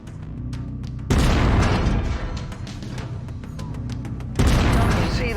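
A mech explodes in MechWarrior 5: Mercenaries as its center torso is destroyed, two loud booming blasts with a rumbling roar between them, heavy and close.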